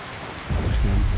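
Rainstorm in the video game Skyrim: a dense hiss of steady rain with low rumbling swelling up partway through, close and continuous with no voices.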